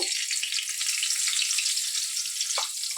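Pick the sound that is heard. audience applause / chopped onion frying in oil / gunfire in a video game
chopped onion frying in oil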